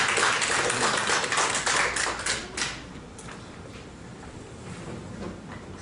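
Audience applause welcoming a speaker at a commemorative symposium, a dense burst of clapping from a seated crowd that fades after a few seconds into quieter room noise.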